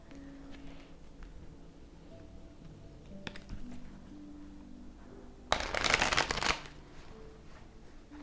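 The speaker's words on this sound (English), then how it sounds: "just shuffling down here so that way it's not all loud up in your ear" Playing cards are shuffled in one brisk riffle burst partway through, preceded by quiet handling noises and soft clicks.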